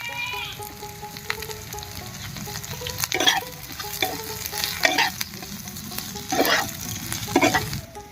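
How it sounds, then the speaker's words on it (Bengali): Green chillies fry with garlic cloves in a pan, giving a continuous sizzle with crackling bursts and repeated scraping stirs of a spatula, close and moderately loud. "এবার এর মধ্যে দিয়ে দেব কয়েকটা কাঁচা লঙ্কা।"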